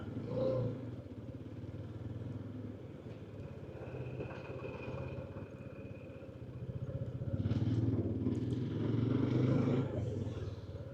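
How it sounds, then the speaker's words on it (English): A motorcycle rides just ahead in busy traffic in the Ivory Coast, its mid-pitched engine droning steadily and swelling with throttle toward the end, heard from inside a following car. "Try to follow this motorcycle."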